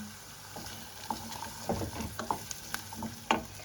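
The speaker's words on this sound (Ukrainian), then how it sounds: "на цьому етапі ми додаємо нашу моркву. І також присмажуємо" Carrot and onion frying in a pan for pumpkin cream soup, with a low steady sizzle broken by scraping stirs and soft clinks of a utensil against the pan, close and moderately quiet, no talking.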